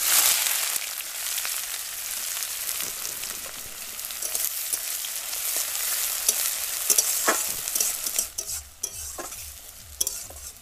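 Chopped onion fries in oil after a tempering of dried red chilli, cumin and bay leaf, with loud close sizzling and repeated stirring scrapes in the pan, no talking.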